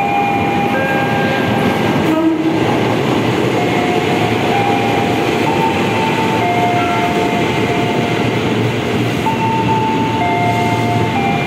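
A commuter train rumbles steadily past at close range at Tanjung Barat station, a continuous loud roar with sustained horn-like tones sounding intermittently over it.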